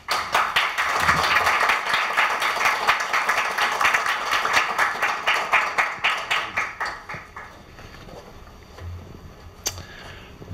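Audience applause at a Korea University Business School celebration greets Professor Mark Taylor, a broad, dense wash of many hands clapping that holds steady for several seconds, then thins to scattered claps and fades out.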